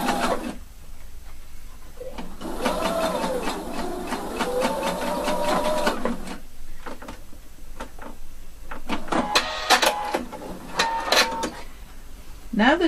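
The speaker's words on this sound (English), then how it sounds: "I sew it to that exact point where I got my marking, my notch." A sewing machine stitches the fly seam of a pair of jeans in a steady whirring run of a few seconds, followed by shorter bursts of stitching, with a person talking nearby throughout.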